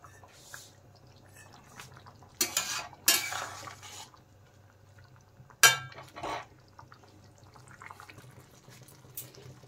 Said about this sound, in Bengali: ভালো করে কিন্তু নেড়ে চেড়ে মিশিয়ে দেব।